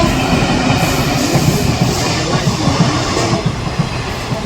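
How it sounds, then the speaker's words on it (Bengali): A train rolls steadily past a railway level crossing where traffic waits at the lowered gate. The loud, close rumble carries rhythmic wheel clatter for the whole stretch and no voices. "ট্রেন চলে গেল"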